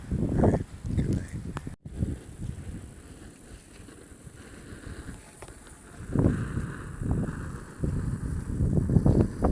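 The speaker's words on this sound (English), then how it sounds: "Gorgeous night, windy as hell" Strong night wind at a camp on the Pacific Crest Trail between Idyllwild and Cabazon, gusting and buffeting the microphone in low rumbling surges that rise and fall, loudest at the start and toward the end.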